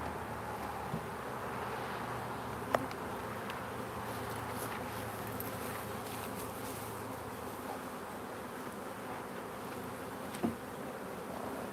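Honey bees swarm and buzz around open hive boxes during an outdoor bee yard inspection, a dense, continuous hum close to the microphone with a couple of faint clicks and no talking.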